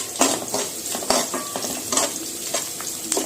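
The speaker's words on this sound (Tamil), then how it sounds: "வெங்காயம் வதங்கிட்டு இருக்கும் போதே பார்த்தீங்கன்னா பூண்டு சேர்த்துக்கலாம்" Onions and garlic sautéing in a pan, a steady sizzle broken by repeated scraping stirs and clinks of a utensil against the metal, close and fairly loud with no voices.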